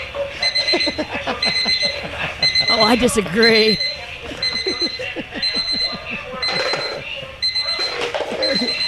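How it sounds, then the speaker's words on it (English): Several alarm clocks ring and beep at once in repeating bursts while people talk over them. "These alarm clocks are set all over her room"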